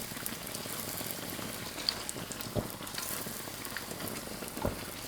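Youtiao dough sticks deep-frying in hot oil in a concave wok, a steady dense sizzle and crackle with a few sharper pops and stirring clunks, close and continuous.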